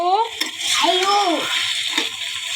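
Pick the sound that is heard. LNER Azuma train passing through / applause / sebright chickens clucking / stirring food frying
stirring food frying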